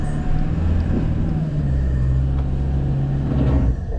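An off-road vehicle pushing through soft sand in the Simpson Desert, its engine rumbling loud and steady with a low drone that shifts pitch midway, sustained throughout.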